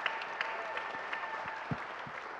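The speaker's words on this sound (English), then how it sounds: "I think he deserves a round of applause for all the hard work he does." At an entrepreneurs' demo day, an audience applauds in a fairly quiet, distant room, with scattered individual claps over a soft continuous patter.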